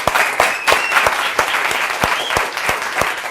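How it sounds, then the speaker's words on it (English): Audience applause after a magic performance by Xavier Mortimer, a rapid wash of clapping punctuated by a few sharp, loud individual claps close by, steady for several seconds. "Big round of applause."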